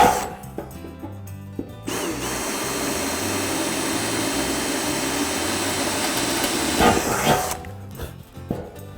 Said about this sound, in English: Use your drill bit.